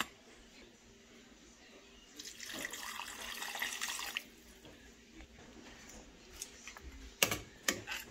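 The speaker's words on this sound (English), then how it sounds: "I'm going to add another cup of water because it's already thick" Water poured into a pot of Jamaican curry goat with potatoes, a broad splashing rush for about two seconds, then fainter trickles and a few sharp clinks near the end.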